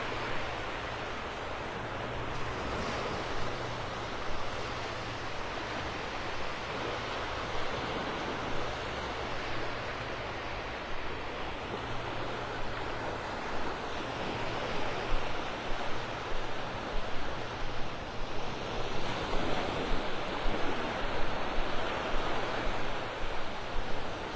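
Gulf of Mexico waves wash steadily onto the beach at Delnor-Wiggins park in North Naples, Florida, under cloudy skies, a continuous broadband surf roar that swells a little louder toward the end, with no talk.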